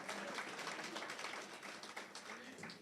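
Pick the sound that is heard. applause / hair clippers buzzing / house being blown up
applause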